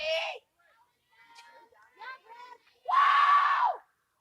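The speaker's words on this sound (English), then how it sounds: "Her teammates are cheering her on right now." Young players on an 18U softball team shout and scream encouragement at a batter from the dugout, with short high-pitched yells and one longer, louder cheer near the end.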